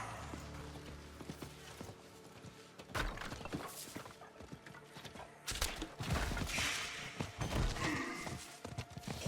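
Horse hooves clip-clopping in Diablo 4, a steady trotting rhythm that turns heavier and busier partway through, with thuds and game effects mixed in.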